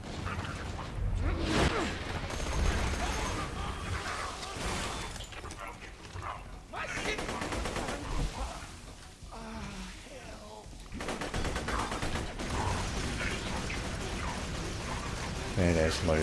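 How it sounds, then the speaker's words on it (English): The Badass Loader robot in Borderlands 2 firing rockets, heard as continuous loud explosive blasts and gunfire crowding the whole stretch, with brief lulls between volleys. "Badass loader shooting off his rockets"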